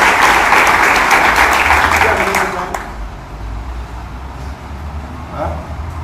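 A church congregation at a prophetic service breaks into loud, dense applause that fills the first few seconds, then fades into murmuring crowd noise and a speaking voice.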